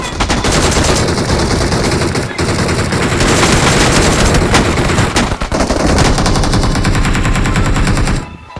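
Relentless automatic gunfire in a mobile shooter video game rattles in rapid bursts, loud and close, with near-continuous shots and brief pauses before cutting off at the end.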